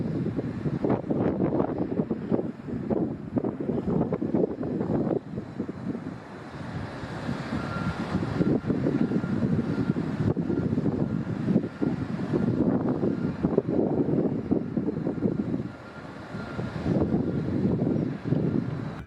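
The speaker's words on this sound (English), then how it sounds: "This Boeing 737 taking off from Birmingham got picked up by the strong winds right away" Strong wind buffets and roars continuously around a Boeing 737 taking off from Birmingham, a loud broadband rush of gusts with no voices.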